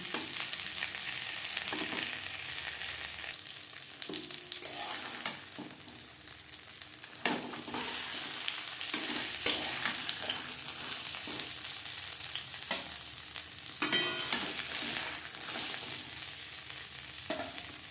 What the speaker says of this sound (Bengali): উল্টে পাল্টে বেশ ভালো করে ভেজে নিতে হবে